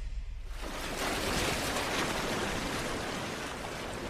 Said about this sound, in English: The crash of water as the buffalo retreat takes on a new significance to her.